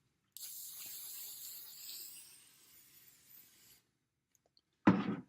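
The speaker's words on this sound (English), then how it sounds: "I'm going to my freezing spray" An aerosol can of freezing hairspray hisses in a continuous spray for about three seconds, fading out, followed by a brief sharp rustle.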